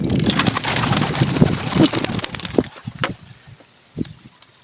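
Domestic pigeons at a home loft, with busy rustling and wing flutters near the start, then a few short coo-like calls and sporadic knocks in a quieter stretch.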